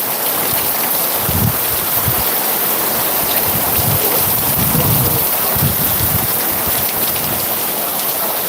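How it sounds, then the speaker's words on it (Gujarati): Heavy rain pours down in Khadadhar, Khambha taluka, Amreli district, a loud, continuous hiss of drops on surfaces with a few low thuds underneath. "બહુ અત્યારે પ્રમાણ વધી ગયું છે વરસાદનું"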